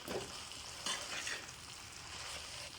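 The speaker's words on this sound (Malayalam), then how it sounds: "ചെറിയുള്ളിയും തേങ്ങയും ജീരകവും നന്നായിട്ടൊരു രണ്ട് മൂന്ന് മിനിറ്റ് ഒന്ന് ഇളക്കി കൊടുക്കുക" Shallots, grated coconut and cumin sizzle steadily in a hot pan, with a few soft scrapes of stirring breaking through the continuous frying hiss; close and alone, no voices.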